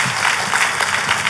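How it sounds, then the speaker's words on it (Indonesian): Church congregation clapping during a worship service, a dense, even wash of applause from many hands, close and sustained with no voices over it. "Tepuk tangannya pula yang paling meriah buat Tuhan kita"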